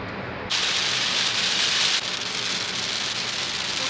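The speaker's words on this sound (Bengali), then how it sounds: "মুষলধারে বৃষ্টি হচ্ছে এখন।" Heavy monsoon downpour on a trip to Chikmagalur, a dense loud hiss of rain that surges abruptly after a brief quieter start, then eases slightly but keeps pouring steadily with no voices.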